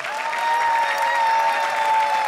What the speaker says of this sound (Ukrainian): Будь ласка, ще раз оплески.